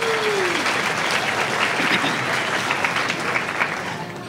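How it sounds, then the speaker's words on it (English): A seminar audience of over 350 people in Denver gives a round of applause, a dense, steady clapping that carries on for several seconds before easing slightly at the end. "so give yourself a round of applause"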